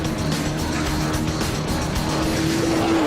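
An Aston Martin DBS is driven hard around a track, its engine roaring loud and close with rising gear tones and a hint of tire squeal, steady and unbroken.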